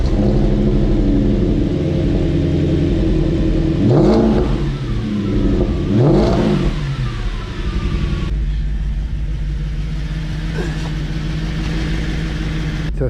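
A totaled Audi S5 bought cheaply at a Copart auction drives along with a steady low engine rumble inside the car, revving up clearly twice in quick succession before settling back to a constant cruising drone.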